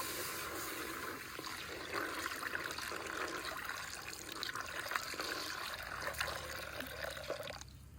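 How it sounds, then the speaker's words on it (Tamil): Second coconut milk pours into blended ground rice in a pot for Sri Lankan rice payasam, a soft continuous liquid trickle and splash heard up close and faint, with no talking. "நாங்கள் இந்த மிக்சியில் அடித்த அரிசிக்கு 2ஆம் பால் விட போகிறோம்."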